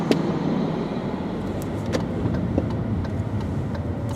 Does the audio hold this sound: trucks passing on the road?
yes